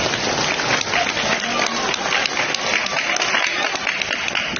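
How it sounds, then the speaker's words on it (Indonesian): Applause from the audience at an Islamic religious lecture gathering in Pontianak, a steady wash of many hands clapping at even loudness throughout, moderately loud with no speech over it. "Tepuk tangan."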